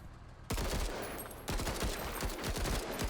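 Weapons fire in the turn-based tactical RPG MENACE: a hard burst opens the volley, a second strong onset follows, then a quick string of rapid sharp shots rattles on, loud and close.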